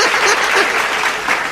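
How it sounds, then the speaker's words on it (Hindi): Dense, loud applause fills the whole short moment, many hands clapping together from an audience at a poetry recital. "थोड़ी सी ताली चार पांच लोग बजा देना, दोनों हाथ मत उठाना है ना, नीचे हाथ करके बजाना"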